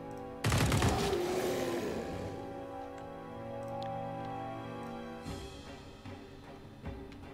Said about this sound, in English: we are then going to engage in a burst fire on these two